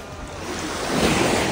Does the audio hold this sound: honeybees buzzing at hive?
no